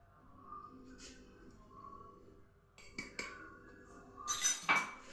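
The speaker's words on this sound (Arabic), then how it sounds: "نخلط مليح حتى يذوب السكر" Metal utensil clinking and scraping against a bowl while sugar is stirred into yeasted brioche dough, soft intermittent taps building to a brighter cluster of clinks near the end, close and moderately quiet with no talking.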